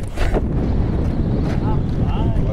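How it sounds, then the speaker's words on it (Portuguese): Wind buffeting the microphone while fishing from a boat, a loud, steady rushing roar with gusty swells, and people talking over it. "O vento tá jogando pra dentro"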